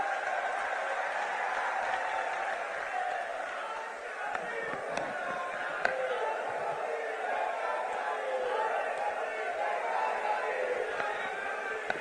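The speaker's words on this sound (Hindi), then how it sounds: "ताली बजाकर स्वागत कीजिए।" Large outdoor political rally crowd welcoming a speaker with steady, continuous applause and clapping, a broad even wash of many hands with faint crowd chatter mixed in, sustained without pause.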